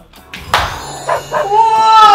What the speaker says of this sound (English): That's my dog, Lino.